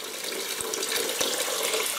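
Warm tap water runs steadily into a sink while orchids are washed in soapy water, a constant close hiss with a few small splashy knocks.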